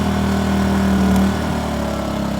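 A Predator 2000 generator runs on eco throttle with a steady, close engine hum and a slight drop in pitch and loudness partway through as it settles.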